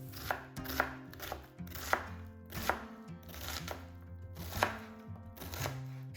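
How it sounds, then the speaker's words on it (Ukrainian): A knife chops an onion on a board in quick bursts of sharp taps, near and clear, with brief pauses between runs. "Далі нарізаю одну цибулину."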